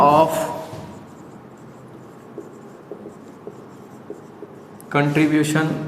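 A teacher writes on a board during a class lecture, making soft scratches and a few sharp taps between stretches of talking at the start and end.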